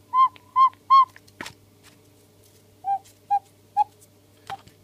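An old cuckoo clock's bellows sound the two-note cuckoo call, three clear calls followed by three more a moment later, each with a sharp mechanical clack in between, close and loud.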